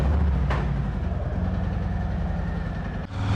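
Harley-Davidson motorcycle engine running with a steady low, throbbing rumble up close, constant for a few seconds with a brief dip near the end, and no voices.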